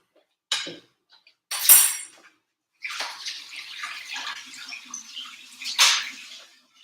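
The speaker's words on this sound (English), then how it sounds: "All right, I'm gonna wash my hands." Tap water runs in bursts as hands are washed at a kitchen sink, with splashing and a few clinks of dishes, close and intermittent with short silent gaps between.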